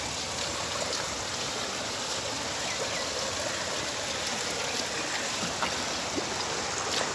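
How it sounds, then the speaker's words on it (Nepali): A stream swollen after a heavy hailstorm in Kathmandu rushes steadily, a dense, even wash of flowing water with no voices, constant and fairly close throughout. "खोला बढेको छ"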